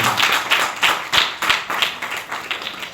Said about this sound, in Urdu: زوردار تالیاں اپنے باپ کو۔